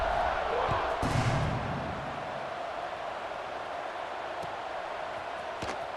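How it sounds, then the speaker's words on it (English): A stadium crowd in the EA Sports College Football 26 video game, Army vs Texas Tech, buzzes in a steady, loud roar, swelling slightly at the start, with commentary over it. "this crowd is buzzing after that last score"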